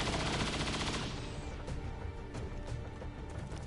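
Rapid, dense gunfire from the video game XCOM 2: War of the Chosen rattles on almost without pause, loud and close, with a few sharper shots standing out near the end.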